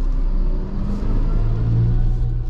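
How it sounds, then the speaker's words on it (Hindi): A car idles and pulls along in first gear with a worn second gear, giving a loud, steady low rumble and engine drone throughout, with no voices present. "देखो यहाँ पे 1 नंबर गियर पे मेरा गाड़ी है"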